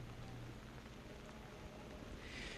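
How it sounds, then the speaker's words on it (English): Steady rain falls across Donald W. Reynolds Razorback Stadium in Fayetteville, Arkansas, on a dark, dreary day, a constant diffuse hiss with a brief brighter patter of drops near the end and no voices. "It's a dark, dreary, rainy day here in Donald W. Reynolds Razorback Stadium."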